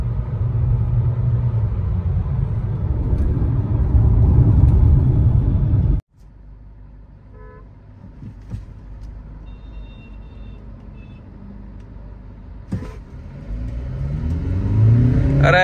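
Kia Seltos and Sonet cars accelerating in a drag race on a road, a loud engine roar that cuts off abruptly, then a quieter stretch with faint beeps before revving builds again near the end.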